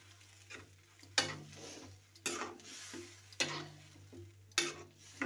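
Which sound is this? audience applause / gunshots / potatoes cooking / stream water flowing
potatoes cooking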